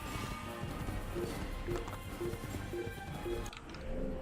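Horse hooves clip-clop with a brief whinny in the video game Assassin's Creed, quick regular hoofbeats under game sound and music, moderately loud.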